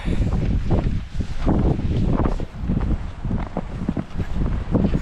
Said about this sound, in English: the wind is absolutely cranking. The snow's blowing. It's a whiteout out here